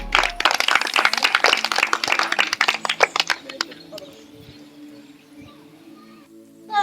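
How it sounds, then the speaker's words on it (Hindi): An audience at a patriotic poetry event claps loudly to welcome the poets. The dense applause lasts about three seconds, then thins to a few scattered claps and fades into a quiet hum of the hall. "कृपया जोरदार तालियों से इनका स्वागत करें"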